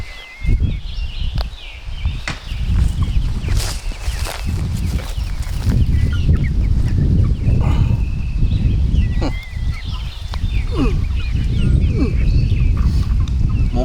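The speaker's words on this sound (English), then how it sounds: "Let's go feed the chickens some scraps." Farm chickens clucking and squawking while being fed scraps, a busy chorus of birds close by, with people talking over them.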